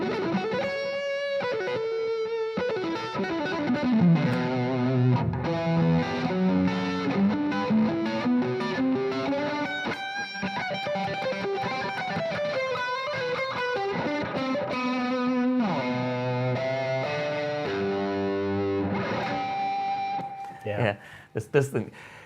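An electric guitar plays a flowing, sustained melodic lead through the vintage, plexi-style channel of an amp, giving a warm, moderately distorted tone with bends and held notes over about twenty seconds, ending with a few picked, choppy notes.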